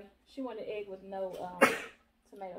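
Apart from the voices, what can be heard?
sneeze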